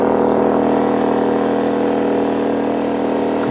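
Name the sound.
GENMAX GM3500Xi inverter generator running air compressor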